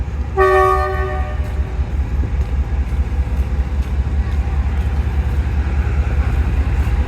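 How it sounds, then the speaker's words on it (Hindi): Riding just behind the locomotive of the Karachi Express, a short horn toot rings out, then a steady low rumble of rolling wheels and carriages continues, loud and close. "अब बिल्कुल लोकोमोटिव के पीछे ट्रैवल स्टार्ट करते हैं लाहौर जंक्शन के लिए"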